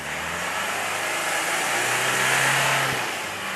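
A Hyundai Verna diesel car with a black smoke problem has its engine revved, a continuous near mid-pitched engine roar that builds gently and then dips at the end.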